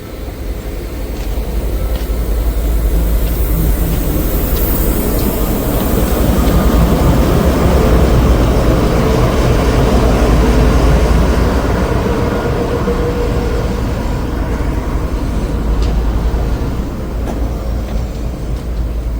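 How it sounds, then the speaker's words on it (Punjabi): A heavy, continuous rumble and rattle of a long goods train running through Dhuri Junction railway station without stopping, loud and steady throughout with no voices. "ਇੱਕ ਗੁੱਡਸ ਟ੍ਰੇਨ ਆਈ ਆ"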